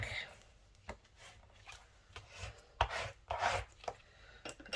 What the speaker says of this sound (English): And I want to scrape the back.